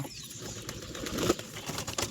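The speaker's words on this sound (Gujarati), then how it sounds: "આપણે મિત્રો કબૂતર પણ ઉડાડીએ છીએ હમણાં" Pigeons being released to fly, wings flapping in brief fluttering bursts close by, with a faint coo in the background.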